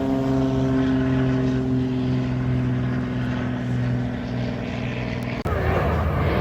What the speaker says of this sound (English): A lot of planes taking off here.